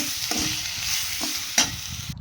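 Fresh coriander fries in hot oil for a Tamil sundakkai masala curry, a steady close sizzle broken by a few sharp scrapes of a spoon stirring the pan.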